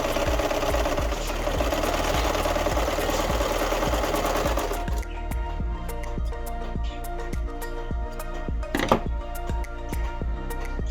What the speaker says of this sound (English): Now I'm going to test out my serger with a scrap piece of fabric.